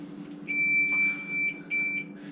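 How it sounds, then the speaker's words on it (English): A kitchen oven beeps in a few clear, high electronic tones, one longer and two shorter, over a faint low background hum. "It's just beeping at me, folks, like a crazy coonhound here."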